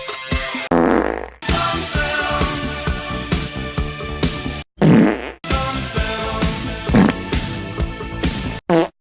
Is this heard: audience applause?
no